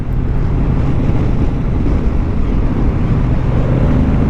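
Steady, loud low-pitched drone from a 2023 Moto Guzzi V100 Mandello motorcycle lugging along in sixth gear, engine rumble blended with heavy wind rush over the microphone, continuous and unbroken throughout.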